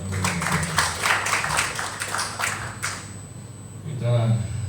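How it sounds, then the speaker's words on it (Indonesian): Congregation applause at a church worship service in a hotel hall, a dense patter of clapping rising and falling over a few seconds, with a voice briefly speaking near the end. "Tuhan Yesus kita beri tepuk tangan yang berbahagia."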